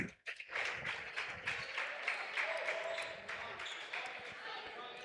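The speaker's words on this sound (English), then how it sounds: "Mayville crowd fired up tonight" Crowd noise from spectators at a girls' high school basketball game, Mayville at Laconia, with steady broadband cheering and clapping in a gym and ball bounces and short shouts mixed in, staying loud for the whole stretch.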